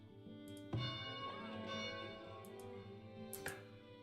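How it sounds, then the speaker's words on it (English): A town bell in the colony-building game Farthest Frontier is struck twice, each clang ringing out with a long, shimmering metallic decay over a quiet ambient backdrop. "we're gonna have to ring the bell"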